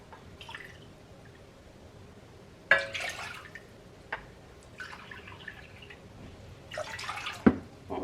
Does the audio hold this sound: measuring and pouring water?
yes